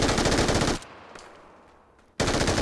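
A UMP submachine gun in PUBG fires a rapid, loud burst of shots, drops into a near-silent pause, then opens up with another abrupt burst at the end.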